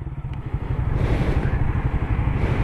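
A truck rumbles past on a nearby road, its engine a loud, steady low drone with some clatter, holding close throughout.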